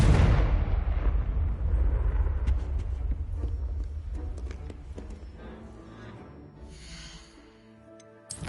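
A Confringo blasting spell from Hogwarts Legacy goes off as a loud booming explosion, its roar decaying slowly over several seconds into scattered crackles and debris before a faint fresh pop at the end.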